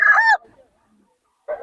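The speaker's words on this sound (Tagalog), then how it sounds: "Kumalat na yung manok mo." Chickens at a poultry market in Bocaue, with one short, close, loud cluck-like call, a pause of silence, then another call starting. No talk.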